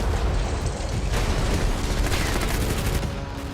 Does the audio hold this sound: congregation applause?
no